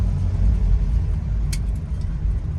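A 1974 Toyota Corolla KE20 on a test drive, heard from inside as a steady low engine and road rumble, with a short higher rattle or squeak partway through.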